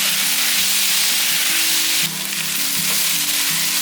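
Char kway teow stir-fries in a wok with bean sprouts, making a loud, dense, continuous sizzle and hiss close up with no talking, while a low, steady background hum runs beneath it throughout.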